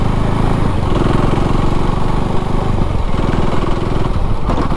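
A 2024 KTM Duke 390 motorcycle engine labors in fifth gear at about 30 km/h, giving a loud, steady, rough pulsing thrum with a rapid knocking beat throughout.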